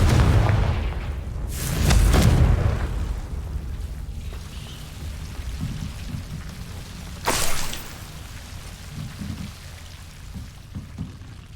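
Confringo blasting-spell explosions in the video game Hogwarts Legacy, two heavy booming blasts a few seconds apart over a rumbling background, loud and close, the second sharper and shorter than the first.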